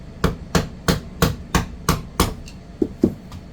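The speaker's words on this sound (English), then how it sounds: "Put the screwdriver in there." Sharp metal tapping on a screwdriver while taking apart a Hilti TE 3000 electric jack hammer: about eight close, evenly spaced strikes, then two softer knocks, with no talking.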